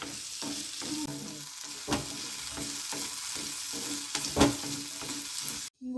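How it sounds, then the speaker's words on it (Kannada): Crushed turkey berries fry in oil in a pan, giving a steady close sizzle with periodic stirring scrapes and clatters throughout. "ಬಾಣಲಿಗೆ ಸ್ವಲ್ಪ ಎಣ್ಣೆ ಹಾಕಿ ಅದರಲ್ಲಿ ಈ ಜಜ್ಜಿಟ್ಕೊಂಡಿರೋ ಅಂಥ ಸುಂಡೆಕಾಯಿನ ಹಾಕಿ"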